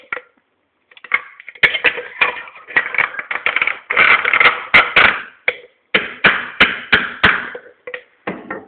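A wood chisel struck with a hammer against a metal can, giving a loud, close series of sharp irregular knocks and scraping clatters in quick bursts with brief pauses.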